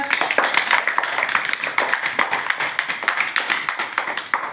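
Children in a classroom clap their hands in quick, even, repeated claps that sound close and bright, with no talking over them.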